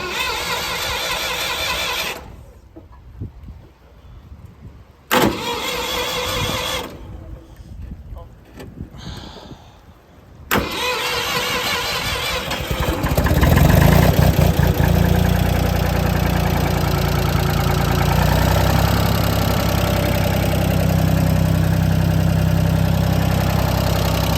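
A car engine cold-started with no choke, cranking and catching in short bursts before settling into a steady, loud idle that runs on alone.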